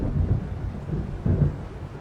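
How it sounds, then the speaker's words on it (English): Low rolling thunder from an approaching storm in Alan Wake, deep rumbles swelling and fading in two soft waves, moderately loud with faint rain-like hiss beneath. "It seems there's a storm coming"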